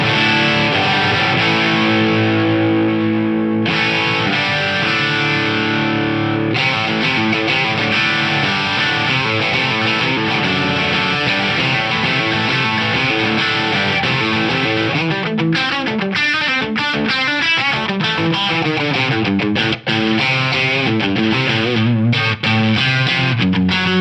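Electric guitar chords played first dry and then through an Arion SCH-1 chorus pedal set to slow rate and full depth, bright sustained strumming that turns to a wavering, shimmering tone partway through.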